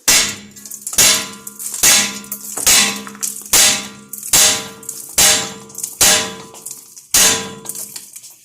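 Hammer blows ringing off a steering component on a Jeep TJ during a TeraFlex lift kit install, eight sharp metallic clangs at a steady rhythm, each decaying briefly, close and loud with no talking.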